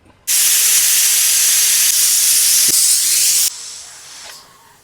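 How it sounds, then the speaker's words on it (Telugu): A pressure cooker whistle blasts a loud, steady jet of hissing steam for about three seconds while dal cooks, then drops to a softer lingering hiss that fades away. "ఈ మాత్రం విజిల్ ఆవిరిపోయేంత వరకు తీసుకోవాలి"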